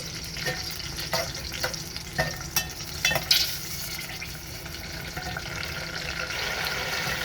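White onions frying in a pan for eggplant chutney, a soft steady sizzle with scattered clicks and scrapes of a spoon stirring, fairly quiet and without talk.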